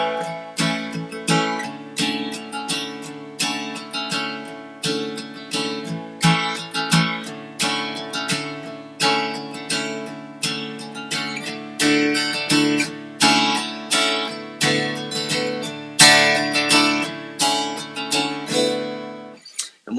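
An acoustic guitar picks a slow single-note descending line, each plucked note ringing clearly and decaying before the next, alone and close, ending with a brief silence.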